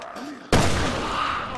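A single loud Magnum shot from Resident Evil Revelations 2 on Xbox One cracks out sharply after a quiet moment, followed by a sustained booming decay.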